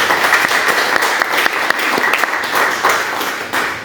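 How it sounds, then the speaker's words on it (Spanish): A burst of audience applause for a guest at a Sinaloa chronicles and legends event, many hands clapping loudly and closely in a dense continuous patter with a few sharper individual claps standing out. "Un aplauso para él, por favor."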